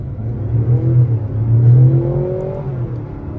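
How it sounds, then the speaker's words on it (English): Mazda CX-90 PHEV accelerates hard in sport mode, a loud engine drone climbing steadily in pitch as it revs out, heard from inside the cabin with no one talking. "you can hear that's very vocal, definitely revs out"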